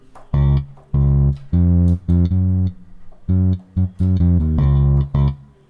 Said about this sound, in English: I'm using Modo Bass by IK Multimedia